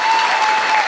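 Audience applause at a gala, a steady dense wash of clapping with a faint sustained tone running beneath it, brief and fairly loud.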